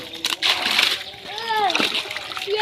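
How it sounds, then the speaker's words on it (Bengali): Fishing net with fish being hauled up out of water, splashing and sloshing loudly up close, with a voice and other talk over the splashes. "ওই মাছের নেট উঠানো হইতেছে"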